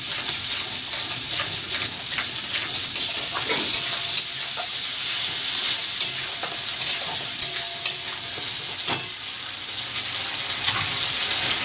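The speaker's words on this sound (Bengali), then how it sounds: "পেঁয়াজটা এবার ভালোভাবে তেলের মধ্যে ভেজে নিতে হবে।" Onion frying in oil in a pan, giving a constant close hissing sizzle with occasional stirring scrapes and small clicks, steady and fairly loud throughout.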